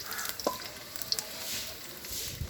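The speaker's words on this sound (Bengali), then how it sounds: "কড়াইতে তেল দিয়েছি, তেল গরম হয়ে গেছে, আলুটা দিয়ে দিচ্ছি। আলুটা হালকা ভেজে নেব।" Potato pieces frying lightly in hot oil in a kadai over a clay stove, a close, continuous crackling sizzle with sharp pops and brief stirring scrapes.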